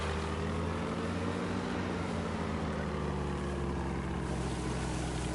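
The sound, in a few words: boat engine running in a video game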